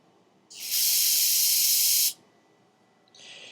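Johnson's brake cleaner aerosol can sprayed from about 18 to 24 inches away, one loud sustained hiss of roughly a second and a half, then a shorter, quieter burst after a pause.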